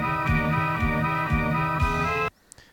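A pitch-shifted rock-rumbling sound effect plays as a steady low, droning rumble with repeating tonal layers and periodic low thumps, then cuts off abruptly into near silence with one faint blip.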